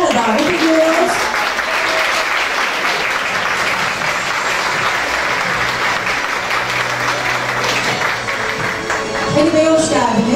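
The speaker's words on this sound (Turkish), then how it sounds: "Sayın Ali Aynan'ı alkışlarla davet ediyoruz." Loud, dense applause from an audience at a hospital's 25th anniversary ceremony honoring a long-serving technical service staff member, continuous and full throughout with a few louder claps near the end.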